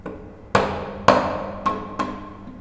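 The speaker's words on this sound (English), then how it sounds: "I'm just going to hammer it in." A hammer drives a wooden wedge into the top of a stool spindle, with five sharp, ringing strikes spaced about half a second apart that fade in loudness toward the end.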